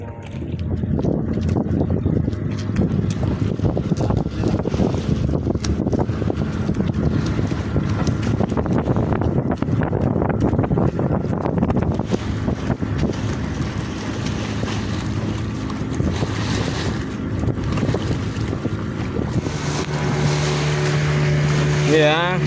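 A boat motors slowly along a bay off Bali near the airport runway, its engine thrumming steadily under wind buffeting and water wash, with a person talking at times and a rising whine near the end.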